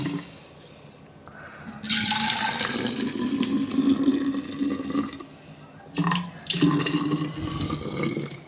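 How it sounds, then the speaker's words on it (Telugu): Boiled hot water pours into a bottle in two bursts, a long splashing, gurgling fill followed by a brief pause and a shorter second pour, heard up close with no talking. "ఈ విధంగా మరగబెట్టిన నీళ్ళని అయితే బాటిల్లో వేసుకోవాలి."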